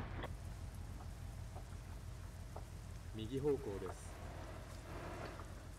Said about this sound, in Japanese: あ、雨降り出してきた。